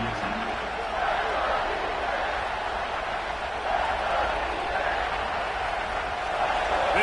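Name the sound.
football stadium crowd rising and cheering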